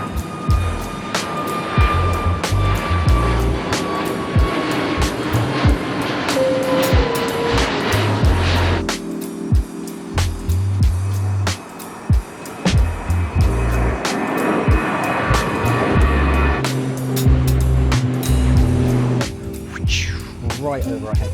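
Jet airliners roar continuously while descending on approach to a London airport, a steady broadband engine rumble passing close overhead with people chatting nearby throughout.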